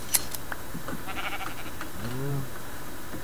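A sheep bleats once in Minecraft, a short wavering call in a quiet farm scene, with faint background game sounds.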